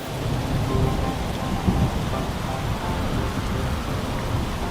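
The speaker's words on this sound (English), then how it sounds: "though it rained and it poured, and the wind blew this way and that, Duck did not give up" A steady, dense wash of heavy pouring rain fills the scene, with a low rumble of distant thunder swelling underneath and no voices.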